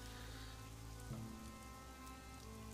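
Steady rain falls in the Northgard real-time strategy game, a continuous soft patter of drops on surfaces with no pauses, faint and alone.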